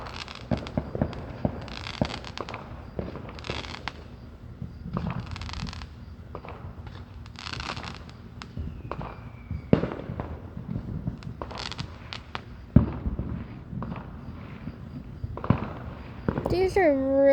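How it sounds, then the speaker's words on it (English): Fireworks going off in the distance, a long series of irregular crackling pops and booms, some louder than others, with people talking throughout. "These are really pretty fireworks"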